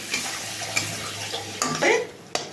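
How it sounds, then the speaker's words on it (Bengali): Spices with tomato sizzle softly in a pan while a utensil stirs and scrapes, with a couple of sharp clinks against the metal. "সব উপকরণগুলো একসঙ্গেই ভাজা হবে সবটা কষানো হবে"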